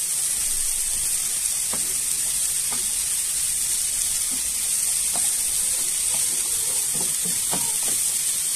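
Mushrooms sautéing in a frying pan until they release their juices, at the start of a baked mushroom dish with béchamel sauce, giving a steady close sizzle and hiss with occasional light stirring clicks and no voices.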